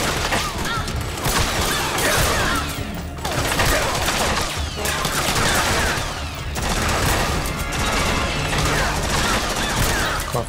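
Gunfire in Metal Gear Solid 4, dense and continuous volleys of crashing shots and mechanical clatter that swell and dip over about ten seconds, loud and close.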